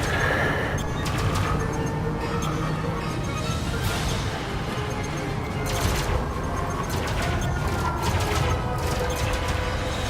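Ship cannons fire during a space battle in Elite: Dangerous. Clusters of sharp, rattling mechanical bursts repeat over a dense, steady rumble of combat noise, and a voice talks briefly underneath.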